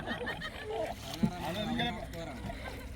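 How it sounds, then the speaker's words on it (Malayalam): A wooden country boat is poled through the water on a trip to Mandrothuruthu, giving soft splashes and gurgles with one brief knock, heard up close beneath people talking. "ഇതാ വള്ളം ഊന്നുകയാണ്."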